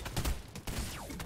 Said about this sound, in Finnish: nää ampuu kovaa